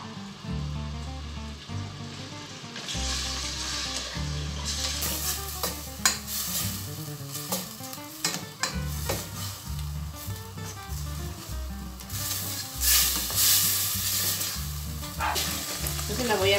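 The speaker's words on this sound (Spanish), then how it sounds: "Entonces la vamos a sofreír." Diced beef seasoned with salt and pepper sautés in a pan, a close, lively sizzle with frequent stirring scrapes and clinks, and no talk.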